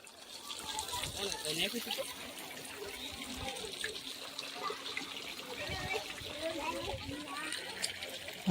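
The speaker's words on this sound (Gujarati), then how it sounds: "ફૂલ પાણી શિવલિંગ ઉપર આવે છે." At an Umiya Mataji temple, water is poured over a Shiva linga with flowers, a faint, continuous trickle and splash under people talking nearby.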